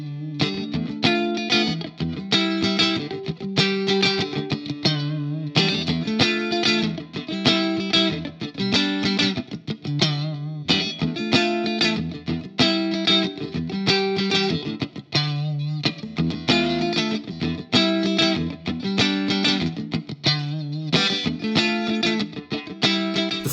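A PRS SE Custom 24 electric guitar with Floyd Rose tremolo plays a continuous run of strummed chords and riffs through effects, loud and close, with no talk.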